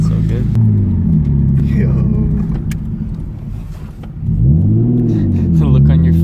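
A Nissan Skyline R33 with a new turbo rumbles and revs loudly at close range, its engine note rising and falling, while a voice briefly speaks over it.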